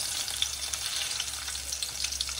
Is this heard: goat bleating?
no